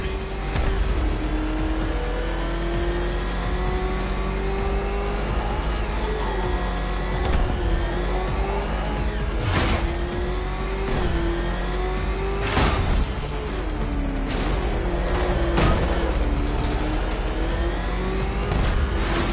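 The Batmobile's engine in Arkham Knight hums on in a steady, sustained drone whose pitch dips and rises with the throttle, broken by short sharp bursts and whooshes from the chase.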